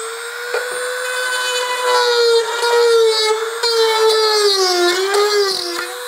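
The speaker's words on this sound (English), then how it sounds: "I'm going to try to go in and use a Dremel tool, and I'm going to relieve that a little bit on the inside." A Dremel rotary tool grinds the inside of a Shelby R Model valance race apron for a 1965–1966 Mustang, a loud, close, high whine that holds steady with small pitch dips as it bites into the material.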